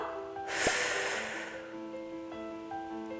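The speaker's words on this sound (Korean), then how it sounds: "자, 마시고 내쉴게요." Single breath during a standing calf stretch: a forceful, airy exhale a little over a second long, close to the listener, followed by quiet breathy room sound.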